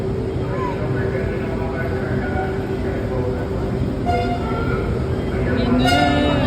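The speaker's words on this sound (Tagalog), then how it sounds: "Tren." Passenger train ride with a steady low rumble of rolling wheels and carriage noise, voices chatting nearby over it, and a few faint high tones near the end.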